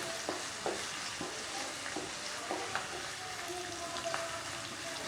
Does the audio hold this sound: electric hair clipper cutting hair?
no